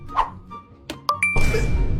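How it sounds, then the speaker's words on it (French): A mobile phone rings with a short bright electronic tone, heard as brief chiming pings followed by a sustained ringtone over a noisy background. "Y'a pas ton téléphone qui sonne, là?"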